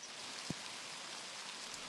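Heavy rain falls at a lake in East Texas as a steady, even hiss, with one brief low thump partway through and no talking.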